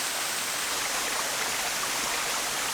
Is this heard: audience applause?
no